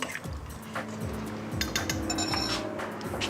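A spoon stirs tomato paste into chicken stock in a pot, giving soft liquid swishes with light clinks against the metal, close and fairly quiet, with no talking.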